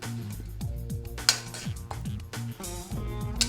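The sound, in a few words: boiled taro roots moved into a bowl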